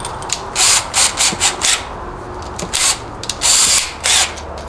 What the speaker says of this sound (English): So I'm going to drill this now.